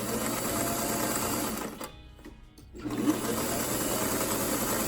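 An old sewing machine in need of oil stitches a long straight seam with a steady, close mechanical whir. It stops briefly and then runs on again.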